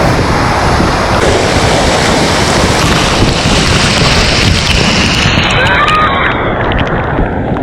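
Jungle waterfall heard close and loud as a continuous broadband roar of falling water, mixed with wind buffeting the microphone, with no voices over it.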